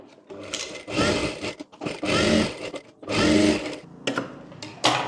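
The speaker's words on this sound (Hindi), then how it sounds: "यहाँ से यहाँ तक सिलाई लगा लेंगे" A sewing machine stitches fabric lining for a girl's chaniya choli in three close, loud bursts of whirring stitching, separated by short pauses.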